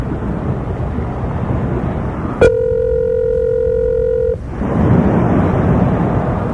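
A steady electronic phone ringing tone sounds for about two seconds after a click, set against constant background rumble and hiss.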